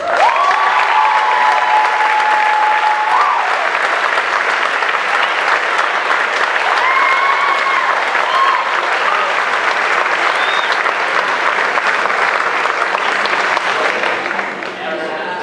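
A school senior awards night audience applauds steadily for the whole stretch, a dense, sustained wash of clapping from a full hall that thins out slightly at the end.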